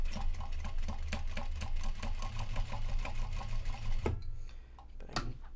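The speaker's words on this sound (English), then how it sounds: "It's actually easy to sew it this time though" A sewing machine stitches knot bags with a fast steady mechanical rattle and rhythmic ticking, running continuously for about four seconds before stopping, followed by a couple of faint clicks.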